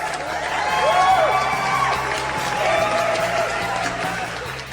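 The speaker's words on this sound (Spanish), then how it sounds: "merecidos aplausos para Cecilia Corti" Studio audience applause for a guest on an Argentine radio talk show, a steady wash of clapping and crowd noise with some whoops and a few voices underneath.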